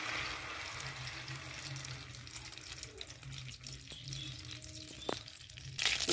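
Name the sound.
mustard oil poured into a hot pan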